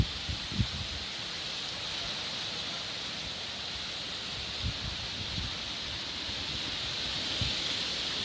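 Hurricane Beryl wind roars over the Caribbean as a steady, loud broadband rush. Occasional soft thumps and gusts rise out of it.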